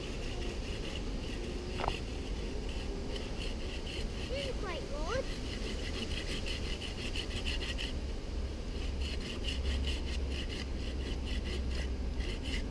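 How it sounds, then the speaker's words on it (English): A hand saw cuts through a wooden tree branch outdoors, making rasping back-and-forth strokes that grow into a quick, regular rhythm toward the end against a steady background murmur. "so as you're sawing, straight above your shoulder"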